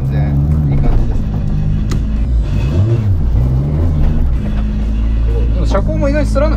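A Toyota Supra JZA80 with a 3-litre 2JZ straight-six, TO4Z full turbine kit and 650 horsepower, cruising with a steady low engine drone and some rising revs while people talk over it inside the car.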